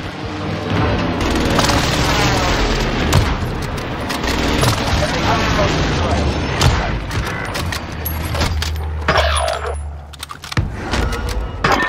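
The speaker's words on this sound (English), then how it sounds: "Allied precision airstrike incoming." Allied precision airstrike explosions in a war video game: a sustained barrage of loud booms and cracking blasts rolls on almost continuously, dense and close, easing briefly near the end.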